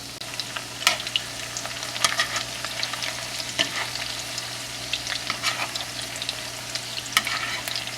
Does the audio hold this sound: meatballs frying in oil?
yes